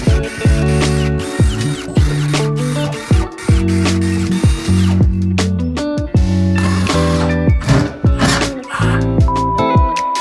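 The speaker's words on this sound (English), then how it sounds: "So I'm gonna have to drill a pilot hole for the no drill anchors." A power drill bores a pilot hole in a wall for no-drill anchors, whining in short repeated bursts that ramp up and stop, loud and close, with brief pauses between runs.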